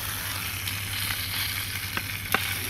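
Butter sizzles and crackles in a pan as fish fries, a steady quiet hiss with a few sharper pops near the end and no talk.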